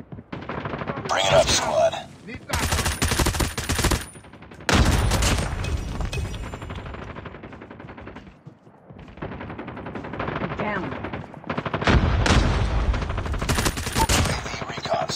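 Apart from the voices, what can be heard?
gunfire in the video game Call of Duty Mobile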